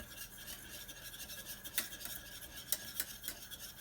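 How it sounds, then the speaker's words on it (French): Almond cream being stirred in a pan over low heat for a frangipane galette, a steady soft scraping and rasping of the utensil against the pan with a few sharper clinks, close and fairly quiet. "Sur le feu, on tourne ici sur le feu jusqu'à épaississement."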